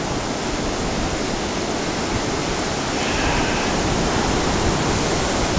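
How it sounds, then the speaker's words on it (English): Intense wind at the peak of Superstorm Sandy over flooded ground, a loud, unbroken roaring rush like a torrent, steady and dense throughout with no voices. "You can hear the wind, pretty intense."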